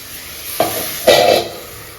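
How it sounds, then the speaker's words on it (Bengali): Potatoes cooking in a pan with water added hiss and sizzle up close in two quick bursts, the second louder and longer, with a low background hum between them. "জল দিয়ে আলুগুলো একটু সেদ্ধ হোক"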